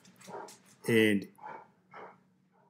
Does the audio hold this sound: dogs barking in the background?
yes